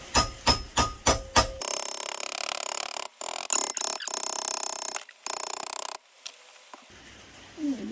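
A cheap hammer beats a steel chassis panel on a Ford Escort MK1 restoration, opening with five quick, loud, ringing metallic strikes in steady rhythm, then a few sparser knocks amid grinding and workshop noise.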